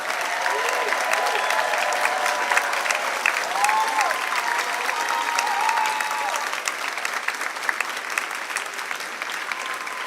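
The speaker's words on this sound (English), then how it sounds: "let's have a big round of applause for the class of 2026" A commencement audience at a dental school ceremony breaks into sustained applause, dense clapping from a large crowd holding steady for the full stretch with a faint murmur underneath.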